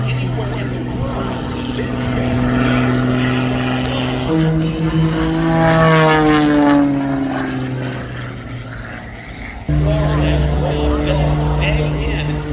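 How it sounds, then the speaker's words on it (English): An MXS RH aerobatic propeller airplane flies a freestyle routine at Oshkosh 2024, its loud buzzing engine drone rising and falling in pitch as it passes and maneuvers, with a sudden jump in intensity near the end. "His favorite flight choice is what we see today, the MXS RH, one of the highest performing aerobatic hot rods anywhere in the world."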